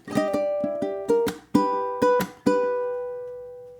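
Ukulele picking the opening bars of a theme alone, a string of bright plucked notes with a few louder accented strums that ring out and decay.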